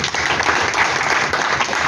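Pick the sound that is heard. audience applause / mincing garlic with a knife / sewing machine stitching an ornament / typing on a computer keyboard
audience applause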